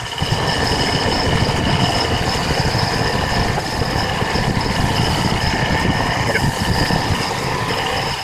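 A pickup truck's A/C compressor runs steadily during a Freon recharge on a GMC/Chevy C1500, a constant loud engine-like drone with a mechanical hum and no talk.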